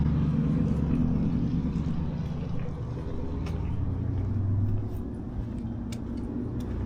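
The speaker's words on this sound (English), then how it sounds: "A lot of cars over there." Car traffic passes at a busy street in a small town, a steady low rumble of engines swelling and easing, moderately loud, with no talk over it.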